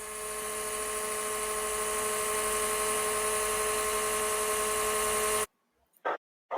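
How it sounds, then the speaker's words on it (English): A dishwasher runs with a steady, loud whirring hum and a high tonal whine, then cuts off abruptly, leaving a couple of brief muffled sounds. "here's dishwasher."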